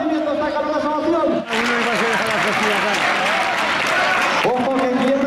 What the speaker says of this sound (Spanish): recibiendo esta calurosa ovación